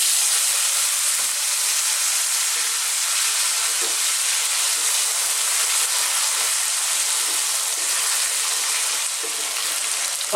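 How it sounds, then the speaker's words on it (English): Raw potato pieces frying in hot oil, a loud, steady sizzle and hiss that holds at the same level throughout, close by, with a few soft stirring knocks and no voices. "we're going to fry them as if we're making some French fries"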